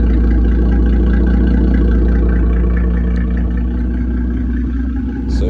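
Loud, deep idle rumble from a car with a burble tune, a steady close-up throb with uneven lumpy pulses and no talk over it.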